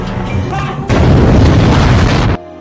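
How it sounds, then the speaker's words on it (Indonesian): A loud, sustained sauna explosion roars for over a second, a deep rumbling boom that cuts off abruptly, preceded by a lower, busier sound. "Hingga ledakan pun terjadi."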